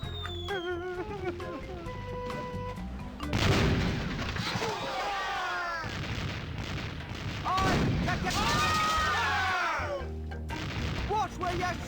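Cannon fire in the adventure game The Curse of Monkey Island, repeated booming blasts with crackling debris over game music, while a player talks over it.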